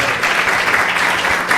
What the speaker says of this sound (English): A big round of applause for His Grace Rasa Krida Prabhu.